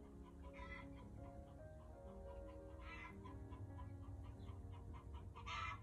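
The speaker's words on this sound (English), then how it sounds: "my chicken has decided that she did not get enough accolades. And she is clucking again." A pet hen clucks repeatedly indoors, with soft, quiet, rhythmic clucks recurring over a low background hum, no voices present.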